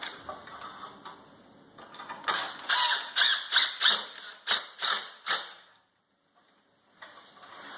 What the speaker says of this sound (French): Et maintenant je la visse.